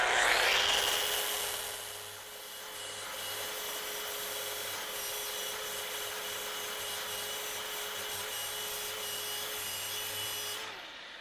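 A dual action sander running 120 grit paper over a wooden chair part, giving a steady, close whirring hum with a gritty scratch that holds for about ten seconds and then cuts off.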